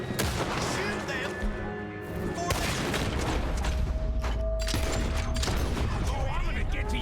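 Rapid gunfire in the Red Dead Redemption 2 video game, loud bursts and repeated shots that keep crackling throughout, mixed with game voices talking.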